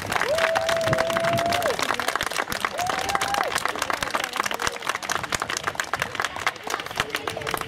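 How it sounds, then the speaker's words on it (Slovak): Audience clapping in a steady, dense wash of applause at the opening of a barrier-free children's playground, loud and continuous throughout, with a voice briefly heard over it. "Aj vás poprosím jeden veľký, úžasný potlesk"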